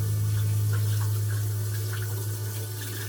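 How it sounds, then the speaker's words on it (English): Cold tap water running steadily into a sink over strained instant cold noodles, a continuous splashing flow with a low hum underneath. "and then run it under cold water"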